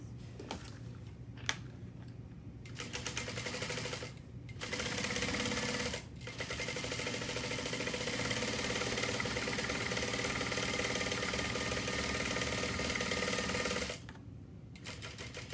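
A sewing machine stitches down the side of fabric at an eighth-inch seam, whirring in fast mechanical runs with short stops and a long steady stretch, close and clear without speech.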